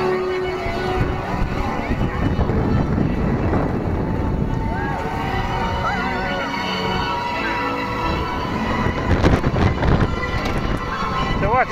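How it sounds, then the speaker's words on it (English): Strong wind buffets the microphone high atop the WindSeeker tower swing ride at an amusement park, a steady loud roar throughout while people talk over it. "God, it's windy up here."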